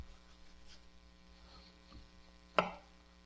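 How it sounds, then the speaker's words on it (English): A sharp knife slices the rind off a cantaloupe in one crisp cut, close and brief, over a steady low electrical hum with no talking. "Continuing along the cantaloupe, taking off the rind"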